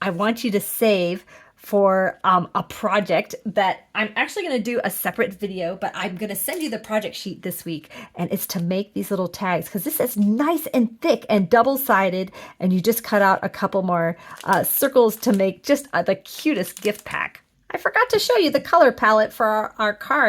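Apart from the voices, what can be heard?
No everyday noise stands out behind the speech.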